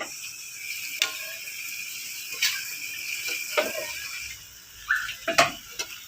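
Banana heart being sautéed in a pan for adobo gives a soft background sizzle, broken by several sharp metallic clinks and scrapes of a utensil against the pan at irregular intervals.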